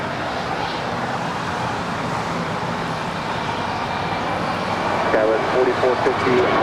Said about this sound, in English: And there goes JetBlue 1124 off to JFK.